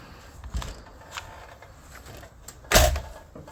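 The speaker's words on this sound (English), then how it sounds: "screen door, of course." An RV screen door on a Forest River Cherokee Alpha Wolf 28FK travel trailer gives a few soft clicks, then one sharp, loud clack as it shuts, set against quiet room noise.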